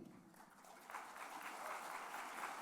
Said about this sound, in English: Clap your hands as they come